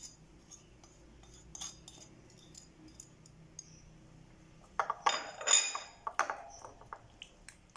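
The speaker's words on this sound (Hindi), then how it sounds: "और इसको अच्छी तरह से हम मिक्स कर लेंगे।" Turmeric and red chili powder are mixed into yogurt with a spoon. Faint scattered clinks build into a busier burst of scraping and tapping against the bowl toward the end, close-up and with no talking.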